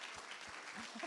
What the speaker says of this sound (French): On applaudit très fort, Yann.